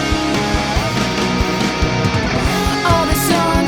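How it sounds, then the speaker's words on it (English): Drums in a punk-rock song driving a pounding tom pattern under a dense full-band mix with sustained guitars, loud and steady throughout. "the drums are reiterating this tom part that we established on the setup for this third chorus"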